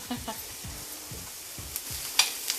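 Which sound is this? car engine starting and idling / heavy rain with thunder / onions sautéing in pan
onions sautéing in pan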